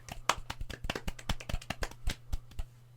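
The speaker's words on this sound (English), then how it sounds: "Round of applause." A few podcast hosts clap together in a quick, uneven patter of sharp close slaps, a small round of applause lasting a few seconds.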